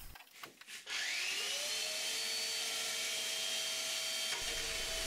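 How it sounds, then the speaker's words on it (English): A kayak laminate part being sanded with a power tool that spins up into a steady, even whir and keeps running without a break. The sound is close, with no voices. "Sanding and testing."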